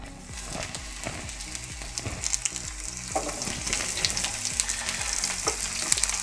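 Pumpkin pieces go into a smoking-hot pan of oil and fry with a steady close sizzle, crackling and spattering continuously throughout without any talk.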